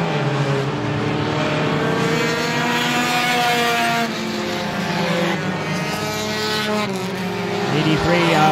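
Four-cylinder enduro race cars roar around Star Speedway, a dense, continuous snarl of several small engines revving together at close range with rising and falling pitch, under a faint announcer's voice.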